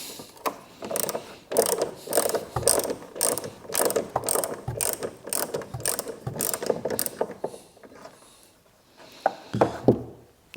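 Ratchet clicking steadily as a nut is undone on a Vauxhall Corsa C rear light, a long run of quick close clicks that slows and fades toward the end, with no talk.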